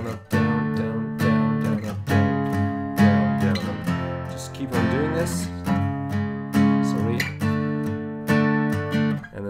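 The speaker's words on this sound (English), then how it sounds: "Okay, so the electric guitar part sounds like this, using the strumming pattern, down, down, down, down, up." Electric guitar strumming chords in a down-down-down-down-up pattern, bright and close with a steady rhythmic pulse, ringing chords changing every couple of seconds, no voice over it.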